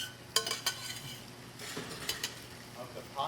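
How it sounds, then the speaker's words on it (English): Starchy pasta water sizzles in a hot pan with garganelli pasta, a soft frying hiss broken by a few sharp clinks of utensils stirring against the pan. "pasta water has some of that starch in, and that's going to just sizzle up"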